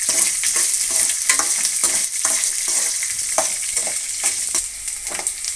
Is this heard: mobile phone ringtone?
no